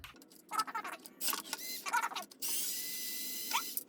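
A small screwdriver working a tiny screw on an original PlayStation console, with short bursts of clicking and grinding mechanism noise, then a steady whirring stretch, close up and without speech.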